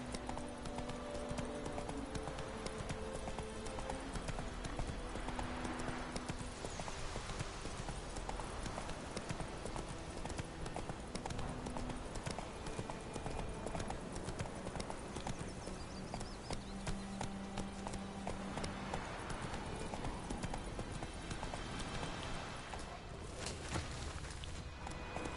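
Roach the horse gallops in The Witcher III with a continuous, rhythmic clip-clop of hooves held at a steady moderate level for the whole stretch, with faint game ambience and occasional voices underneath.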